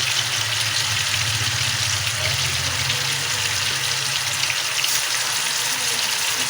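Fish for masala fish curry frying in a pan, a steady dense sizzle with crackling bubbles continuing without pause, close and fairly loud.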